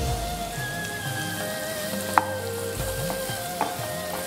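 Carrots fry in a pan alongside onion and beans, giving a continuous close sizzle broken by occasional stirring clinks, with nobody speaking.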